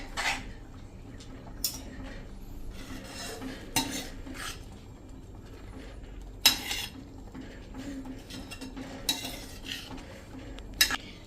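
Salt stirred into a moong dal and spinach curry in a pan, with a steady low cooking noise and scattered metal spoon-on-pan clinks and scrapes at irregular intervals, close and moderately loud.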